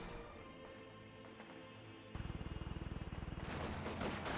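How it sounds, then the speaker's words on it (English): A quad half-track in the Company of Heroes 2 battle game fires a sustained, rapid rattling burst of automatic cannon fire, loud and dense, surrounded by ongoing battlefield noise. "Quad half track firing away"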